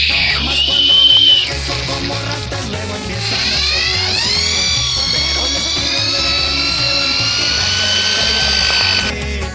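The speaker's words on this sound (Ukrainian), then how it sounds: "місім гліну" A power mixer churns clay for a concrete bathroom floor at a country house, giving a loud, steady drilling whine that rises in pitch and runs continuously after a brief pause, over a low rumbling background.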